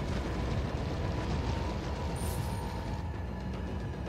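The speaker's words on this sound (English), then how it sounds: "Oh, actually, double the explosions." Loud, continuous rumbling blasts from explosions in the PS4 version of Resident Evil 4, a dense wall of sound with no talk over it.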